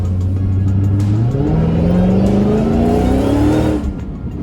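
A Dodge Charger Hellcat engine revs hard, a loud, close roar that climbs steadily in pitch over a few seconds and then drops off, with no talking over it.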